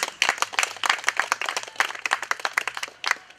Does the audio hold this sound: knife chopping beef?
no